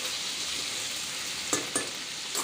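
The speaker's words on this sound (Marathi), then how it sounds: "अद्रक लसणाची पेस्ट जी आहे आपण तेलामध्ये छान अशी परतून घ्यायची आहे" Ginger-garlic paste fries in hot oil, making a steady close sizzle with two or three brief utensil scrapes near the end.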